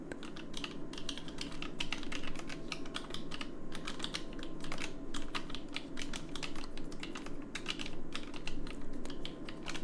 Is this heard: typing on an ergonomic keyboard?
yes